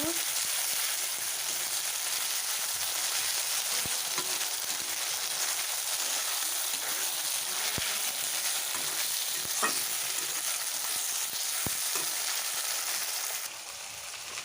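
Ground spice paste stirred into a hot oiled pan for a Bengali fish-head dal, a steady loud sizzle and frying hiss with scattered spoon scrapes and taps throughout.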